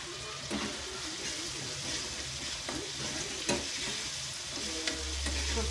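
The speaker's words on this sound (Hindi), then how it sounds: "तो चलिए इसको भूनने देते हैं टमाटर को।" Tomatoes and onions sizzle steadily while frying in a small kadhai, a constant close crackle with occasional stirring scrapes and no talk.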